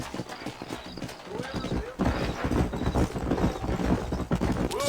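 Rhythmic clip-clop of horse hooves at a steady gallop in the video game Red Dead Redemption, with talking voices over the top and a busy background.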